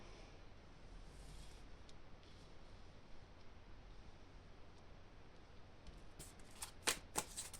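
Tarot cards are handled and shuffled for a reading, a faint steady papery hiss with a few sharper riffling snaps near the end, quiet and close with no talking.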